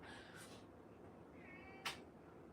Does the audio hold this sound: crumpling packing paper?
no